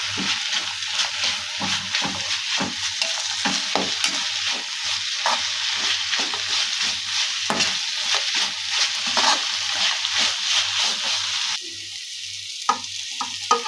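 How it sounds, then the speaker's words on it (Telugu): Grated raw mango and carrot tossed with lemon juice in a bowl for pulihora, a steady run of soft scraping and stirring strokes close by with no talk, thinning out slightly near the end. "ఇప్పుడు అన్నీ కలిపి కాస్త బాగా కలుపుకోవాలి"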